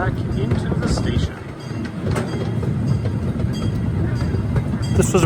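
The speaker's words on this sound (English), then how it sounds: "And we are off on our train ride." A small tourist train rolls through a wildlife park, rumbling and clacking on its track with squeaks and rattles, loud and close, with people chatting over the ride.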